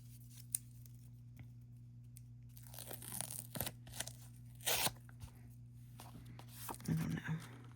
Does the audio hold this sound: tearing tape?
yes